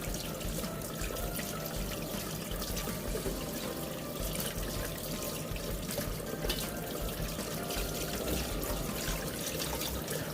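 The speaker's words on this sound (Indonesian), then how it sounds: "saya bilas ya" Tap water runs and splashes steadily in a sink while dried sea cucumbers are rinsed clean, a constant close rushing trickle with no talk.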